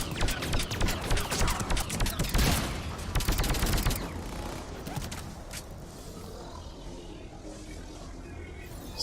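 Rapid bursts of gunfire ring out in the Mass Effect 3 shooter game, dense volleys of sharp shots early on that thin to scattered single shots later.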